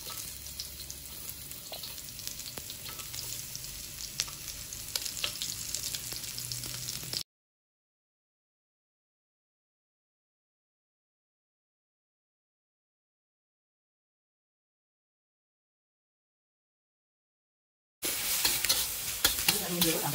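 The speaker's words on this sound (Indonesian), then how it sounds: "Ini kita tumis bawang putih dulu. Kita masukin bawang merah yang udah diiris ya." Garlic and sliced shallots sizzle steadily in a hot pan while being stirred, with a scraping stir heard over the frying, then a long silent gap before the sizzling resumes.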